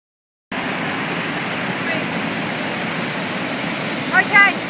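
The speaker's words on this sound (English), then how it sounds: "the roar from the force of all the water shooting over the falls" Steady, loud roar of a glacial waterfall in the Rockies, water pounding over the falls in a dense continuous rush, with a brief faint chirp or squeak near the end.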